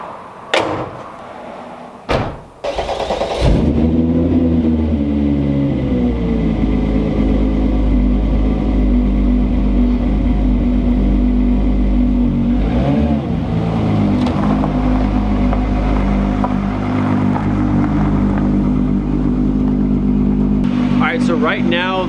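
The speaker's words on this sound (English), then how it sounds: "So right now the car is running." A Mk3 car's engine idles steadily and close after a few door thunks and handling knocks, a continuous low rumble with slight fluctuations that runs for about twenty seconds.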